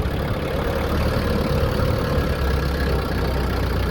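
A tractor engine idles nearby on a cold day, giving off a loud, steady, low rumble with an even mechanical churn and no change in pitch.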